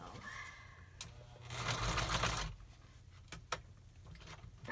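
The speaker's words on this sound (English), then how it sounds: "So just zigzag stitch on." Sewing machine zigzag stitching a small handmade paper journal: a quiet close mechanical whir that swells into a fast buzzing run of stitches for about a second, then stops, followed by faint clicks and handling noises.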